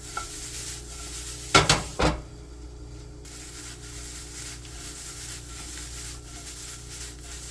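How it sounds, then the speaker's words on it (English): Ground beef browning in a pan for ramen lasagna gives a soft, steady sizzle, punctuated early by a couple of sharp scraping stirs, close and without speech. "Meanwhile, our beef is browning."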